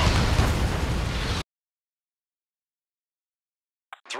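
A loud, roaring missile explosion in a combat flight video game, cutting off abruptly into silence before a brief burst of sound returns.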